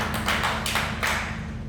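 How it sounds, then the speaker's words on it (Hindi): A single sharp hand clap from a construction worker at a tower crane cradle rescue training session, sounding close and brief over steady low background hum. "एक बार ताली बजाओ।"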